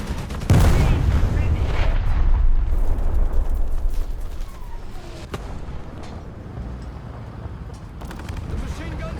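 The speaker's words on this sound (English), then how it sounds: "Now we're getting bombed." Bombs exploding around an M4A1 (76) W tank in War Thunder: a loud, booming blast with a long rumbling roll, followed by scattered smaller pops and bangs over continuous battlefield noise.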